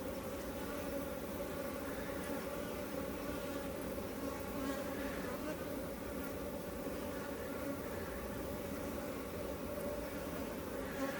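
Bees buzz steadily and densely throughout, a close, continuous insect drone with no talking, after the colony has been moved into new housing.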